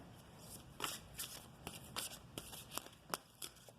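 Witch's Oracle cards being shuffled by hand, quiet, close riffling with a series of sharp flicks and snaps at irregular intervals.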